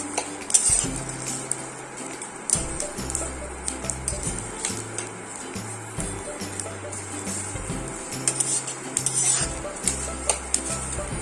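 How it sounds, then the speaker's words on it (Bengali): Onions frying in a pan with a soft sizzle, while a utensil scrapes and clinks against the metal in repeated stirring strokes. "পেঁয়াজটাকে একটু ভালো করে ভাজবো।"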